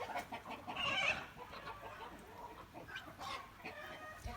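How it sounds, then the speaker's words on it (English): Chickens clucking in the background near a porch in the evening, faint scattered clucks and calls against quiet ambient noise, with no talk. "You probably hear my birds in the background."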